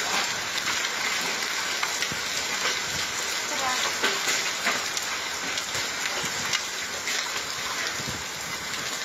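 Dense, steady pelting of hail drumming on cars, loud and continuous throughout with a broad hissing roar.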